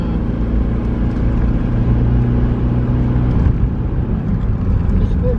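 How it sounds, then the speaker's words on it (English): A Daihatsu Copen with a 660cc engine labours up a hill, giving a steady, close engine rumble under loud wind and road noise. "Such a lively little car, really, it climbs this hill better than my bigger one."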